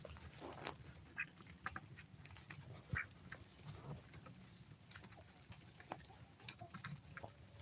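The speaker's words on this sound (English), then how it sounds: "We're watching our ducks eat in the rain." Farm ducks feed outdoors on a rainy day, with soft pattering rain and small scattered dabbling and pecking sounds, faint and close, with no voices.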